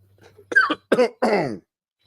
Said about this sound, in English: See that? He coughed.